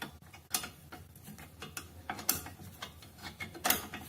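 A ratchet clicks while turning a bolt during a rear brake job on a car, quick bursts of ticking in short strokes, fairly close and moderately quiet with some background noise.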